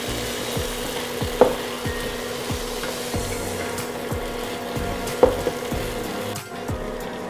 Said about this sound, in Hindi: भिंडी को मसालों में मिक्स कर लेते हैं।